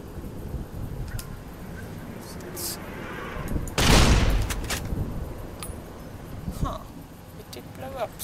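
A gunshot or short blast at a radio in Fallout: New Vegas in the Mojave Wasteland, one loud broad burst around the middle with a brief tail, set amid faint rustling and a few soft clicks.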